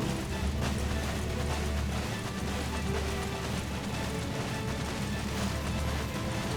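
Horse hooves clip-clop steadily in Final Fantasy XIV: A Realm Reborn as a mount is ridden, a continuous, dense rhythm blended into loud background game sound and music.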